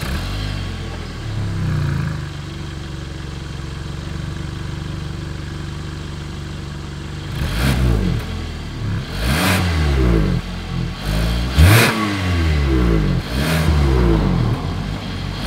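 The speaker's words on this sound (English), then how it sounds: "As always, here is that exhaust clip." A 2021 Hyundai Tucson's exhaust hums at a steady idle, then the engine is revved several times in quick bursts, each rising and falling sharply, loud and close to the tailpipe.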